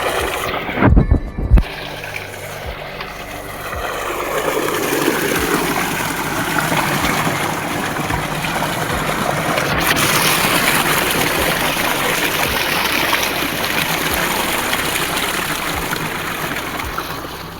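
Irrigation water gushes through an opened outlet into a cotton field, a steady, fairly loud rushing and gurgling flow that carries on unbroken after a couple of sharp knocks at the start.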